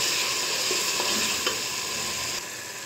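Arbi (taro root) curry masala roasting in a pot while being stirred, a dense close sizzle with a few scraping knocks of the spoon, dropping slightly quieter near the end, no speech.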